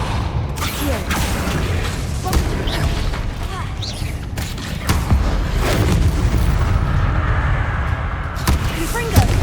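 Confringo spell blasts in a Harry Potter video game, rumbling booms and mechanical clatter over a dense, continuous game soundscape, with faint bits of voice.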